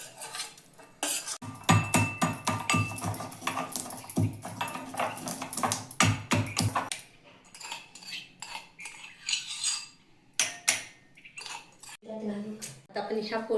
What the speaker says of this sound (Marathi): आता मिरे आणि लवंग पण या पद्धतीनेच बारीक करून घ्यायचे आहे.